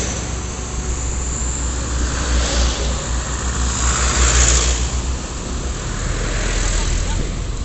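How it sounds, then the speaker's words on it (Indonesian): A container truck's engine labours up a steep hill climb, a steady, heavy low rumble with broad roaring noise that swells and eases slightly, continuous and fairly close throughout. "Ban belakang sendiri sebelah kanan ini masih dipaksa untuk nanjak."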